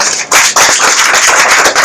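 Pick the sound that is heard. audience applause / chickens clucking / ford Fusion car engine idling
audience applause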